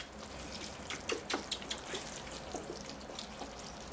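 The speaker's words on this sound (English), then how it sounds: "All right, here I go with the water." Water is poured over a bonsai landscape planting of cedars with moss and rocks, a faint, close, uneven trickle and patter with scattered drips and no speech.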